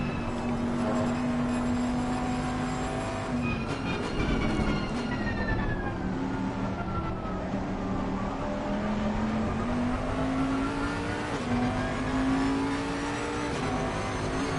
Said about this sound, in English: push that Bentley V8 twin turbo